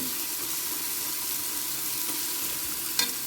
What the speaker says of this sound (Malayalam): ഒന്ന് രണ്ട് മിനിറ്റ് നേരം ചെറുതിയിൽ വെച്ചിട്ടൊന്ന് അതിൻ്റെ പച്ചമണമൊക്കെ ഒന്ന് പോകാൻ വേണ്ടിയിട്ടൊന്ന് ഇളക്കി കൊടുക്കുന്നുണ്ട്